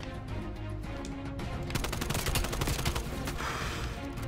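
Dense automatic gunfire from an AK-74 in the video game Black Ops Cold War, a rapid string of loud close shots that grows fuller midway and runs steadily through the whole stretch with no talking over it.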